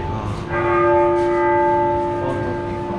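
A church bell rings the hour in Barcelona, one loud, long-ringing strike whose bright tones hang and slowly decay over faint outdoor city murmur.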